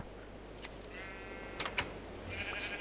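Minecraft sheep on a Skyblock island bleat in a few short, clipped calls over faint background hum, heard up close with no talking.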